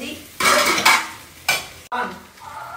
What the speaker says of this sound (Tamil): இப்போ முட்டையை கொட்டலாம். முட்டையை நல்லா வதக்கிட்டு